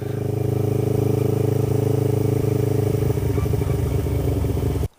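A low-slung motorcycle engine runs steadily and loud at close range for several seconds, with a rough, rumbling tone and slight pulsing, then cuts off abruptly at the end.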